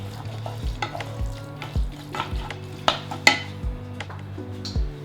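Minced beef with chili being stirred in a frying pan: a spoon scrapes and knocks against the pan in repeated strokes over a soft, continuous sizzle, close and clear with no talking.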